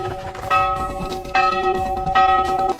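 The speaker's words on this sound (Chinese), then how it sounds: "这刺耳的铃声很快就会将追兵引来。" A harsh bell rings at a well in a hot, dry fantasy setting, struck three times with bright, sustained metallic tones that overlap and linger.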